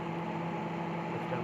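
A microwave oven hums steadily after being switched on during a no-power repair, a constant mains-like drone with faint hiss, close and unchanging throughout.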